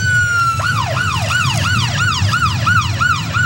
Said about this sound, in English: You hear the sirens in the background, Carlo, and the flags.